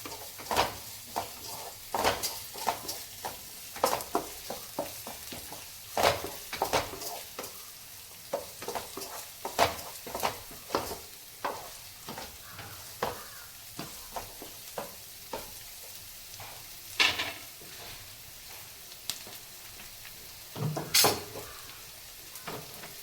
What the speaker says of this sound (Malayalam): അതിനോട് പച്ചമുളക്, വറ്റൽമുളക്, കറിവേപ്പില എല്ലാം കൂടി വഴറ്റിയെടുക്കുക.